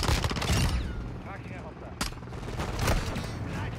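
Call of Duty Modern Warfare II gameplay with bursts of rapid gunfire and sharp single shots, mechanical clicks and a loud crack near the middle, over busy game noise and faint voices.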